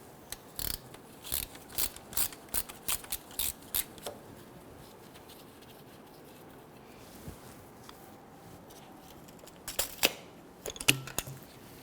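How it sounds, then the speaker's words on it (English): Ratchet wrench with a 13mm socket unbolting a component during neutral safety switch replacement on a 2006-2010 Hummer H3, giving bursts of quick, close clicking, a run early on and another cluster near the end, with quiet pauses between. "We're gonna use our 13mm socket."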